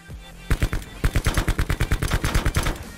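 Rapid automatic gunfire in a video game, loud close bursts of evenly spaced shots rattling continuously for a few seconds after a brief quiet start.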